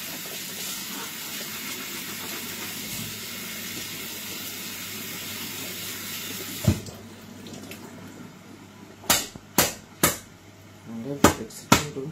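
Water from a tap runs steadily while fish is rinsed, hissing for several seconds, then it stops and gives way to a few sharp splashes and knocks at close range.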